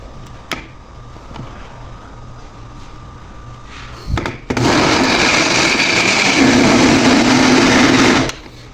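A quiet room with a few clicks and knocks, then a loud blender whirs on, running steadily for several seconds before cutting off.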